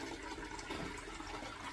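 Water pours steadily into a container while preparing a lime solution for water glassing eggs, a continuous splashing rush with no voices.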